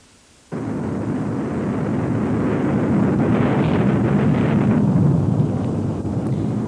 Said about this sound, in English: 1952 saw a momentous happening, the first hydrogen bomb.